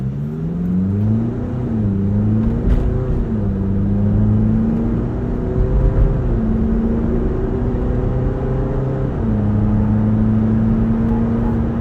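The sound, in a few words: MG Gloster 4x4 accelerating to almost 100 km/h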